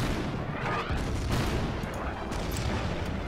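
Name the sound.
artillery fire in video game Order of Battle: Endsieg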